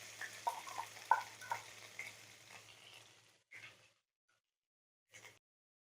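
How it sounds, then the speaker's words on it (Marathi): Thecha, a crushed chilli-garlic paste, fries with whole spices and asafoetida in hot oil, a steady close sizzle broken by stirring scrapes for about three seconds, then near silence with two short bursts of stirring. "ठेचा थोडा परतून घेऊया."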